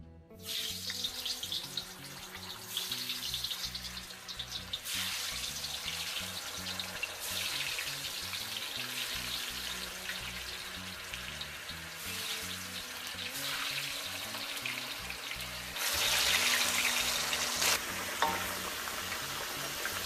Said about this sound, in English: Now I'm getting ready to fry up the potato, and I'm using the wok, and I add table oil into the pot.